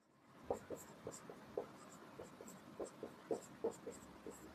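Pen scratching out a maths solution on paper, a vector sum copied twice for a Class 12 problem, heard as a quiet series of short, regular strokes and taps close by, with no talking.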